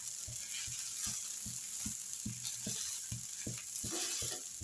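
Tomato dosa made from leftover dosa batter roasts in oil on a pan, giving a steady close sizzle broken by a regular series of soft low taps and scrapes, with no voices.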